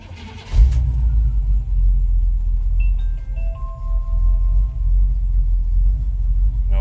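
A 1981 GMC Sierra K1500 pickup engine cranks, fires up with a loud burst, then settles into a steady, low, rumbling idle heard close by.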